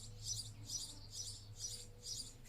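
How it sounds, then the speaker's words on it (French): Birds chirp outdoors during a Pilates class, a faint rhythmic series of about six short high tweets over a low steady hum, with no one talking. "Les oiseaux font cours avec nous, hein."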